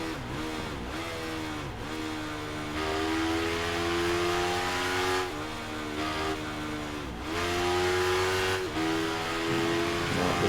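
Motorcycle engine in the Ride 3 racing video game, revving hard and climbing through the gears in repeated rising sweeps with short dips at each shift, loud and continuous with no talking.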